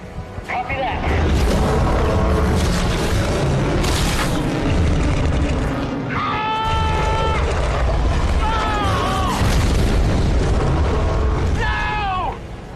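Continuous loud, rumbling booms and blasts fill a sci-fi film battle as weapons unload their payload, with heavy low-end explosions sustained throughout and shrill whining tones cutting through in places, with voices shouting underneath.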